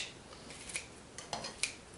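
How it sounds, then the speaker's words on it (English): Vegetable scissors snipping salad greens, a few quiet, crisp metallic snips spaced irregularly, close up and alone. "I just snip it up a little, you know, with a vegetable scissors"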